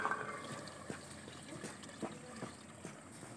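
Water splashes and trickles into a cooking pot in short bursts, fairly quiet and close, with no talking.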